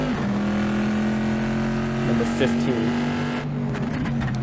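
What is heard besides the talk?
race car passing at Laguna Seca in racing video game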